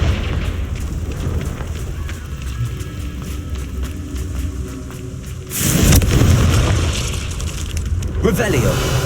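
A Confringo fire spell from the Hogwarts Legacy video game bursts with a loud, booming explosion, and its heavy rumble swells and lingers beneath a steady bed of game noise and a voice.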